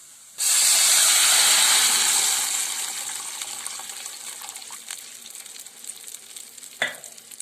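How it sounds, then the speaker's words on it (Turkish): Hot water poured into a pan of toasted vermicelli for a yogurt soup bursts into a loud, sudden sizzling hiss that slowly fades into quieter bubbling, with a brief clink near the end. "Şimdi içerisine 3 su bardağı sıcak suyumu ekleyip kaynamaya bırakacağım."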